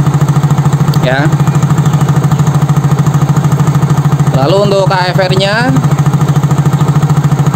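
A Yamaha Soul GT or Mio J motorcycle engine idles steadily with a rapid, even putter throughout, while someone talks over it in short phrases.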